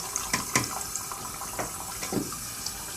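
The squeegee part of a Kuvings Silent Juicer rinsed under a running tap, steady close water splashing with knocks and clatters of plastic against the sink.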